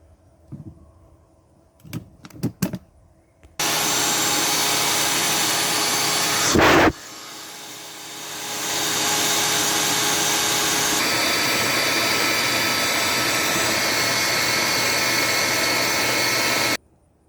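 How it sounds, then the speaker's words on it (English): A loud, steady vacuum drone runs for most of the clip after a few short clicks, with one sharp knock and the pitch shifting as the suction moves over a 2017 Chevy Cruze air filter. "and then I'll vacuum from the other side."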